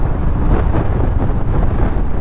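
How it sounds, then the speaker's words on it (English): Wind buffets the microphone with loud, rumbling gusts that roar and flutter continuously throughout, with nothing else clearly audible. "Oh, it's getting windy up here."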